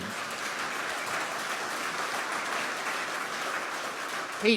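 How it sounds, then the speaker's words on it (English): A gala audience applauds steadily in a large room, a dense and sustained wash of clapping that holds an even level throughout, with a brief louder burst at the very end. "he deserves a round of applause because he's a top"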